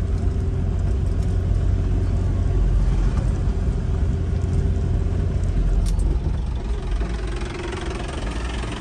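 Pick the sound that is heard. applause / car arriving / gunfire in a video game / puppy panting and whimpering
car arriving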